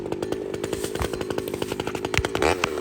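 A four-stroke engine revved hard and repeatedly, its loud, rough, rapid firing pulses rising and falling close by in a fast, aggressive rhythm, with no talk.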